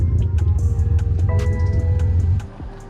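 A big-turbo BMW F30 340i idles roughly after a hard launch, its engine giving a loud, uneven low rumble with some whining tones before the sound drops away near the end.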